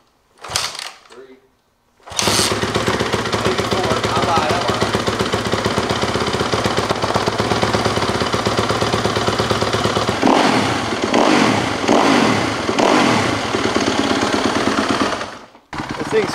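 A kick-started two-stroke engine, cold and smoking, runs loud and close with a rapid rattling putter, then revs in several sharp rising blips before cutting out near the end.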